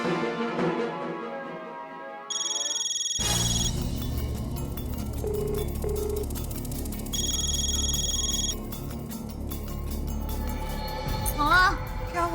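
A phone's electronic ring tone sounds in two bursts a few seconds apart, with a soft voice and some background noise, left unanswered.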